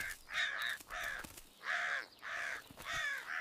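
Several crows near a farm field give repeated harsh caws in bursts of two or three, fairly close and clear, with short pauses between calls.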